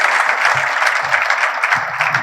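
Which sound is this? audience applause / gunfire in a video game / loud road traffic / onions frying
audience applause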